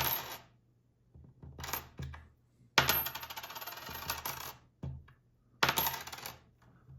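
Small mostly-zinc pennies from 1983 onward dropped one after another onto a hard surface, each landing with a dull clink followed by brief rattling and settling, close and fairly quiet.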